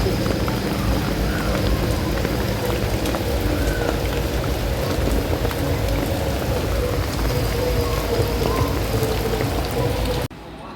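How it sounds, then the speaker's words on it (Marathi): Heavy rain falls in a steady loud roar with dense drumming on surfaces, continuous throughout before cutting off abruptly at the end. "इथं एवढा पाऊस चालू आहे"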